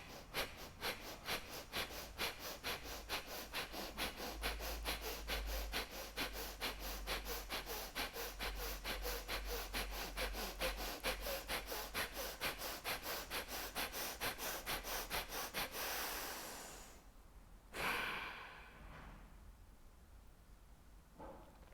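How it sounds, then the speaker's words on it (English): Rapid forced breathing driven by the diaphragm during a solar plexus chakra yoga practice: quick rhythmic puffs of breath repeat steadily and close up for about sixteen seconds, then stop, followed by one longer exhale and quieter breathing. "the breath is being forced by the movement of the diaphragm"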